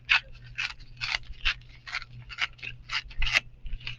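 Paper is torn in a series of about ten short ripping bursts, evenly paced and close, with quiet pauses between pulls.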